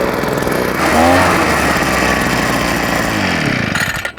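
A petrol backpack leaf blower, model BP43C, runs close by with a loud steady two-stroke engine buzz that briefly revs higher before cutting off at the end, no voices over it.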